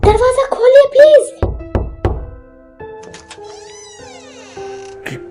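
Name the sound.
knocking on a door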